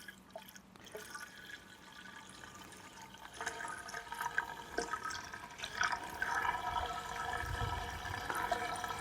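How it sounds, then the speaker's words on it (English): Water pours steadily from a 5-litre container, a continuous splashing flow with faint dripping, fairly quiet and without any glugging. "It just pours, as you can see, it's no glug in, it's just going straight in."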